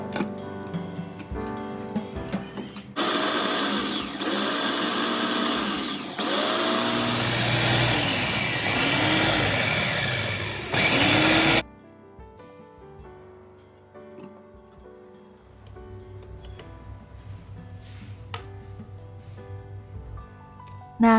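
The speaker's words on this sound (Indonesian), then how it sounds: "Di sini saya mau chopper dulu untuk bumbu dan telurnya supaya merata ya" An electric food chopper blends spices with eggs for chicken nuggets, whirring loudly in several bursts with short pauses between them, then stopping and leaving quieter kitchen sounds.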